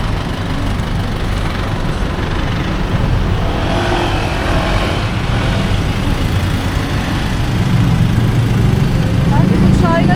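Car passing along a street in Bangkok's Chinatown, a continuous loud engine rumble swelling toward the end, with people talking nearby.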